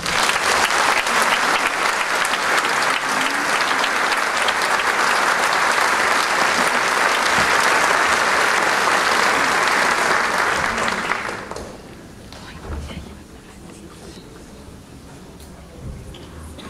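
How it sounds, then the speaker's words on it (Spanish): A concert audience applauding an organ performance of a Márquez danzón on a symphonic organ, loud sustained clapping from a large crowd that holds steady for about eleven seconds, then drops away abruptly to quiet room noise and scattered faint sounds. "Un aplauso, por favor."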